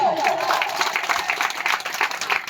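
Audience at a bhajan singing competition prize distribution in Abdullaganj clapping loudly and steadily, a dense crowd-wide ovation with a voice briefly audible at the start.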